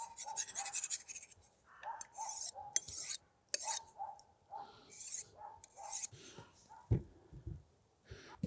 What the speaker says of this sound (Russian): Помидоры нарезаю вот такими дольками